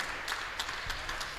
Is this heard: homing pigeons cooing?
no